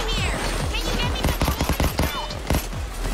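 Rapid gunfire in the co-op heist shooter Payday 2, dense overlapping bursts and shots crackling continuously, loud and close, with players talking over the battle and game music beneath.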